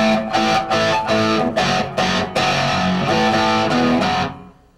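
A distorted electric guitar plays a riff of sustained chords with steady rhythmic attacks, loud and alone, before fading out at the end.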